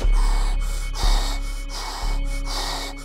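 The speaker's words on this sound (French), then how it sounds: "Oh, ça y est, j'hyperventile." A man hyperventilating in a French TV comedy scene, gasping hard for breath in a fast, loud, close rhythm of about six sharp breaths, each lasting around half a second, with no speech.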